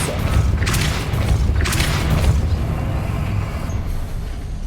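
Depulso spell cast in Hogwarts Legacy: two whooshing bursts of force with a heavy boom underneath, a deep rumble lingering across the clip.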